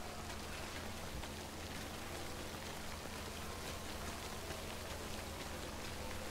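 Steady rain in the video game Death Stranding, a dense, even hiss of falling drops with a faint low hum beneath, constant and fairly quiet throughout.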